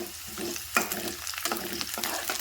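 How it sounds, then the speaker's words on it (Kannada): Chopped onion sizzles and fries in a hot pan as curry leaves are added, a dense close crackle broken by sharp bursts of spattering and scraping stirs. "ಈಗ ಉಳ್ಳಾಗಡ್ಡಿ ಫ್ರೈ ಆಗ್ತಿದ್ದಂಗೆ ಇದಕ್ಕೊಂದು ಸ್ವಲ್ಪ ಕೊರ್ಬೇವು ಹಾಕ್ಕೊಂಡು ನೋಡಿರಿ"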